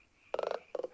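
Cartoon frogs croak in an animated film's night wilderness scene, a rapid burst of about six throaty croaks followed moments later by a shorter run of three, close and clear against a quiet background.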